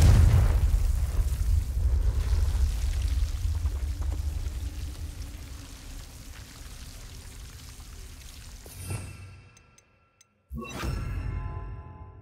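Confringo blasting spells erupt in Hogwarts Legacy on Xbox Series X, giving a loud, sustained roaring rumble that cuts to near silence before a second sharp blast bursts out.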